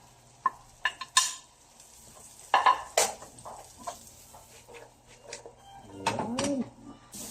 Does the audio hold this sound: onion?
yes